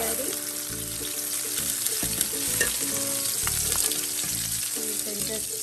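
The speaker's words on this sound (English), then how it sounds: "Stir the peppers in a few times" Sliced peppers sizzle and fry in a pan while being stirred for fajitas, a steady close hiss broken by repeated scraping stirs of the utensil against the pan.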